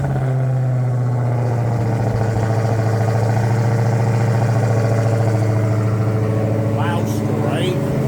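A car engine idling steadily with a deep, constant rumble and a slight rise in revs, close by, while a voice talks over it.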